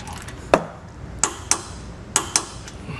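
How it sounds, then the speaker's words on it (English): While a trailer hitch is fitted to a 2022 Chevrolet, a 19 mm socket tightens its bolts with five sharp metallic clicks and clanks spaced irregularly over a quiet background, close to the listener and with no voices. "I'm gonna go through with my 19 millimeter socket and I'm just gonna make sure they're all torqued down properly"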